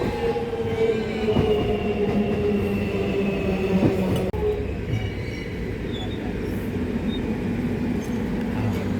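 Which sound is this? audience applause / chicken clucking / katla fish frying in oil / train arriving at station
train arriving at station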